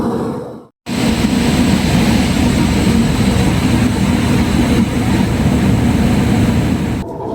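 An Erode-shed WAP7 electric locomotive hauls the 16333 Veraval–Thiruvananthapuram Express, a loud, continuous rolling roar with faint rail clatter that starts abruptly after a brief dip and holds steady up close.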